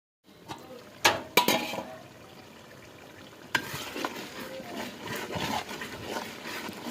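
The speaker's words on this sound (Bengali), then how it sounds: "এখন পেঁয়াজ কুচিগুলো ভালো করে কষিয়ে নিচ্ছি" Chopped onions sautéing and being stirred in a pan during home cooking, with a steady close sizzle broken by sharp scraping clatters of the spoon against the pan.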